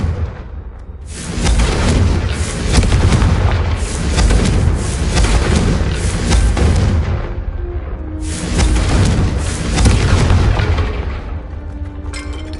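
Repeated booming fireball blasts from the Confringo spell in Hogwarts Legacy, loud dense explosive bursts nearly continuous across the clip with a brief lull midway, no talking.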